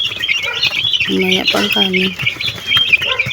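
Pet chicks peep in high, thin chirps throughout, close and steady, while a person talks over them.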